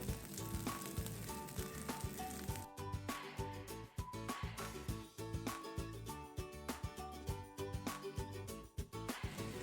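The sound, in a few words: Nutella French toast frying in a pan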